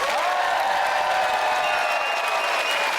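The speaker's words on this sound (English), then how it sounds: "I want everyone to clap, scream and shout for Pete and Joe" A live close-up magic show audience claps, cheers and shouts for magicians Pete and Joe, producing a dense, steady roar of applause that stays loud and even throughout.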